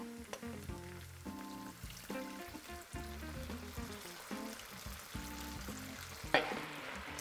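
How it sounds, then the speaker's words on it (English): Stock poured into hot oil with garlic for vegetarian mapo tofu sizzles and crackles steadily throughout, a dense frying hiss with no voices. "we're now gonna add in a little bit of stock"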